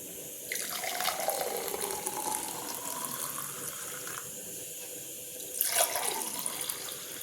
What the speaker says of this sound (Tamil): இப்போ ஜூஸ் ரெடிங்க, வாங்க கிளாஸில் ஊற்றிடலாம்.